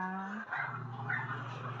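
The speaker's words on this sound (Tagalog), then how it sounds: "Ang iingay talaga ng aming aso." A hungry pet dog barks and whimpers indoors at close range, a couple of short yelping barks over about two seconds.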